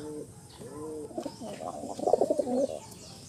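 Racing pigeons cooing close by, soft rolling coos that build into a busier cluster of calls before fading, with no talking.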